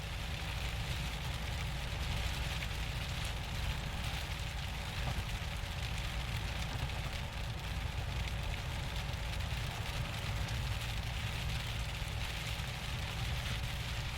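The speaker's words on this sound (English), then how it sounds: "Back into more big rain." Heavy storm rain drums steadily on a car during a chase in the southeastern hills of San Diego, a dense, even hiss with a low engine rumble underneath, no voices.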